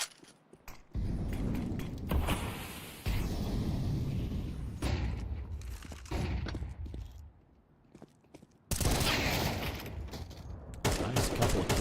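Rapid bursts of gunfire crackle in a competitive shooter game during a European Pro League match, with sustained automatic fire, brief lulls, and sharp, loud volleys near and far.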